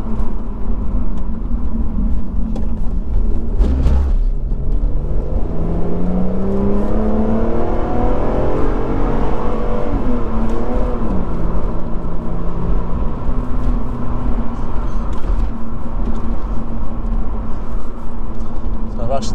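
Lotus Evora accelerating on a country road with its automatic gearbox kicking down, engine note rising and falling through gear changes under a steady road roar, while someone talks over it.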